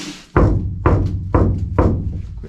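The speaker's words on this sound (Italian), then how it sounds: "Sentite il rumore che fa la lamiera." Four hollow, evenly spaced knocks land on a bare sheet-metal panel of a van before insulation is fitted. Each knock rings briefly and decays as the next one arrives.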